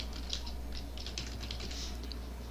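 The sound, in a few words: typing on a computer keyboard in WordPad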